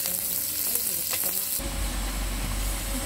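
Beef fat sizzling and crackling as it renders in a hot pan, a steady bright hiss that swells louder midway, close and continuous with no talk.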